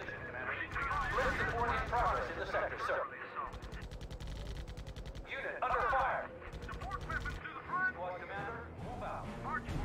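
Bursts of machine-gun fire in the video game R.U.S.E. during the Utah Beach battle, heard in several rattling stretches beneath game voices and battlefield noise at a moderate distance.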